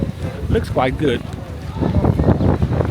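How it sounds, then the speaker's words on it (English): Wind blowing outdoors on a Benidorm morning, a steady broadband rush and buffeting against the microphone that runs throughout while a person speaks briefly near the start. "when the wind is picking up again"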